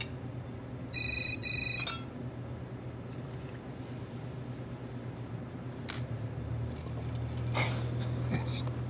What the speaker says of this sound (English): Oh no, the phone.